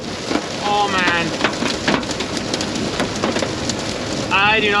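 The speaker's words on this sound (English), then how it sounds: "It started hailing on the highway." Hail hammering on a truck driving down a highway in a storm, a dense loud rattling patter under road noise, with people talking and exclaiming over it.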